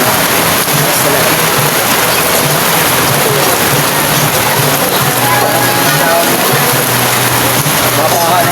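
Heavy rain pours in a dense, loud, unbroken roar across the whole span, with people talking faintly underneath the downpour.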